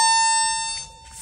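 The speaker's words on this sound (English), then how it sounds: "Now, you can hear just a faint beep." A boundary wire detector wand held near a Husqvarna Automower loop wire gives a steady high-pitched electronic tone that fades slightly, heard alone outdoors at close range.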